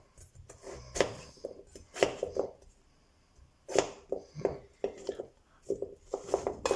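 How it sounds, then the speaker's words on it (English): Knife cutting peeled potatoes into cubes on a board, a series of close, irregular chopping knocks in short bursts with pauses between them. "once the potatoes are peeled, I'm going to cut them up in cubes"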